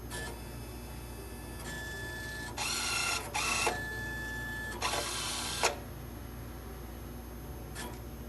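An automated microscope slide scanner in a cell biology lab loads a slide into its yellow holder, with a steady mechanical hum broken by several bursts of whirring motor movement and a brief click near the end.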